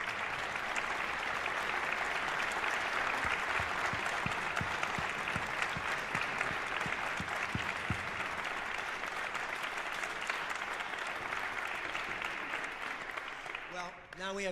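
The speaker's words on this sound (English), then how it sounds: "A round of applause for our winners." Concert-hall audience at a university school of music prize winners concert gives sustained, dense applause for the winners, loud and even for over ten seconds before fading at the end.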